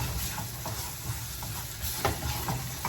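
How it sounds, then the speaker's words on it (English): Onions and flour frying in vegetable oil while being stirred in a pan, a steady soft sizzle with intermittent scraping stir strokes, close and fairly quiet, no talking. "And you want to stir."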